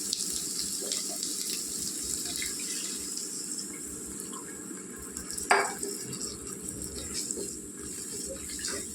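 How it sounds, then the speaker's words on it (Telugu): Water pours steadily into mutton curry with raw chana dal cooking in a pan, a continuous splashing stream over a low sizzle, with one brief louder splash midway. "నీళ్ళు వేసుకోవాలండి కర్రీలో."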